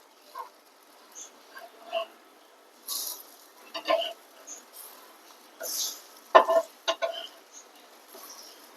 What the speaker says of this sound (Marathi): आपल्याला आता टर्न करून घेणार आहोत आणि दुसरी बाजू फ्राय करून